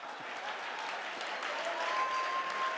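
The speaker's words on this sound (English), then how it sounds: "Come on, clap your hand." Continuous applause from an audience clapping at a leadership sermon, a dense, steady patter of many hands at moderate loudness that lasts throughout.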